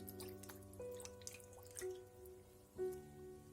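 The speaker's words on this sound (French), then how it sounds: "Vous plongez votre prothèse capillaire dans l'eau." A synthetic-fibre wig is dipped into a sink of cold or lukewarm water, giving soft, close drips and gentle sloshing with a faint tonal background hum, no voices.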